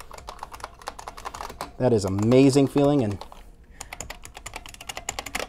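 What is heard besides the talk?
IBM PS/2 Model 30 keyboard keys being typed on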